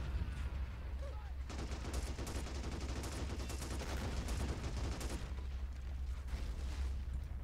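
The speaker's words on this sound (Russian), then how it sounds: "Они просто нас такими дальними выстрелами пытаются выкурить, нанести какой-то вред нашей пехоте." Long-range gunfire in the war strategy game Assault Squad 2 crackles without pause, dense overlapping shots and bursts over a low rumbling battlefield bed, steady and moderately distant.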